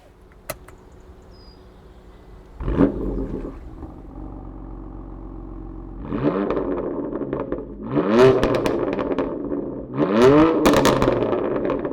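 A BMW M4 DTM Champion Edition starts off on a drive, its engine revving in several rising bursts with pauses between, loud and close from inside the car, with mechanical clatter early on.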